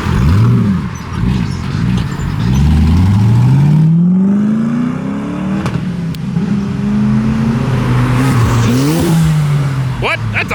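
A rat rod at a car show revs its engine in several rising and falling pulls, loud and close, with crowd chatter and voices underneath.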